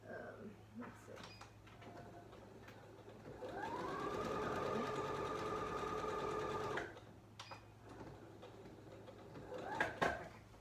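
A sewing machine stitches a fabric face mask closed, speeding up into one sustained run of a few seconds, with softer handling noises before and after it.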